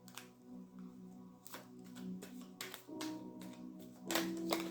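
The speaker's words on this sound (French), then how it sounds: "On va prendre une dernière carte, une petite carte conseil." A tarot advice card is drawn from the deck at a quiet table: soft shuffling, sliding and tapping of cards in short bursts, close and faint.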